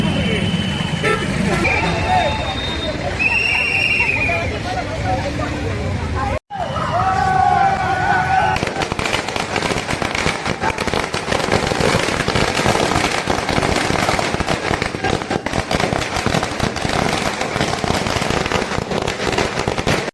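Firecrackers bursting in dense, rapid crackling volleys at a street celebration by political party supporters, with crowd babble and vehicle horns mixed in.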